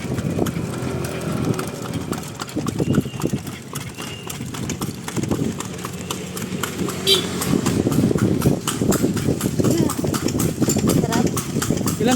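Horse hooves clip-clop steadily on a street in Calle Crisologo, a horse-drawn carriage passing close by with an engine hum underneath, while people chat over the hoofbeats.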